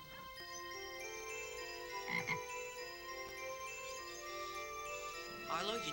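A frog croaks in a pet shop scene from a 1987 comedy film, a steady ringing croak layered over sustained tonal background sound, with a sharper burst near the middle and another near the end.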